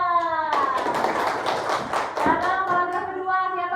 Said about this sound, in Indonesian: Tepuk tangan untuk Intan.